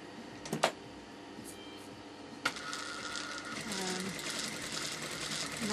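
Domestic sewing machine fitted with a gathering foot, putting gathers into fabric for a maxi dress; a couple of sharp clicks, then a steady close whirring run of stitching that continues to the end.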